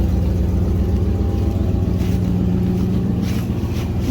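An old Chrysler 318 (5.2) V8 idles just after cranking, a loud low rumble holding steady with slight wavering throughout and no talking.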